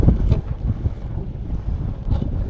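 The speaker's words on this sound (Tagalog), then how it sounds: "So medyo malakas ang hangin." Strong wind buffets a small anchored fishing boat off West Auckland, a rough, low rumbling roar of gusts against the microphone with water sloshing beneath, continuous and fairly loud with no talk.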